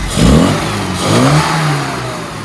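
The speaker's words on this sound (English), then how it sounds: "instantly the engine's starting better and running better" Car engine running after the ballast resistor was bypassed to give full power to the coil, a loud, close engine revving in two surges, then settling into a steady run.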